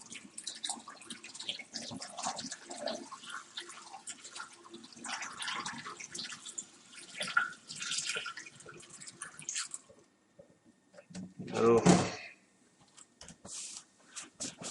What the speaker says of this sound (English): You don't do nothing special to it, you just pour it in.